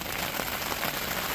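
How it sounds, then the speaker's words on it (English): Rain falling outdoors, a steady, soft hiss of drops on surfaces with faint scattered patter, continuous and even, with no voices. "it's not going to stop raining"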